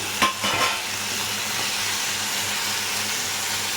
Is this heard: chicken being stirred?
yes